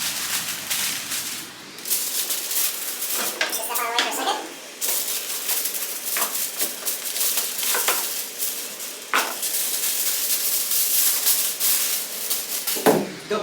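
Smoked baby back ribs coated in butter and agave syrup are wrapped in aluminum foil, producing repeated crinkling and rustling bursts with a few sharp crackles, all under ongoing talk.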